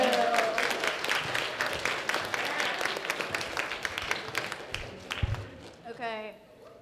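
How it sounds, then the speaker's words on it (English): Audience at a BronyCon 2013 improv show applauding a news-crew sketch, a dense burst of clapping that gradually thins and fades, with a voice briefly speaking near the end. "everyone applaud our news crew"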